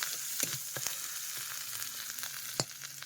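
Eggs frying in a pan in a home kitchen, a steady close sizzle with scattered pops and crackles and one sharper spatter near the end, with no talking.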